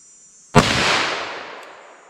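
A single sharp shot from a .357 Magnum pistol loaded with Inceptor ARX plastic bullets, loud and close, with a sudden crack that rings out and decays over about a second and a half, heard alone.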